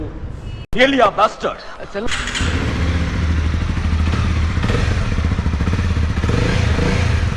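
A new 300R motorcycle starts with a sharp thump, then its engine idles steadily and up close while someone talks over it.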